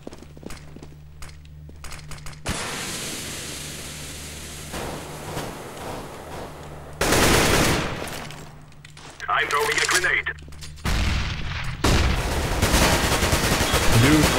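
Counter-Strike: Global Offensive gameplay brings bursts of rapid gunfire, sharp cracks and sustained automatic volleys between quieter gaps, loud and close, while players talk over the action.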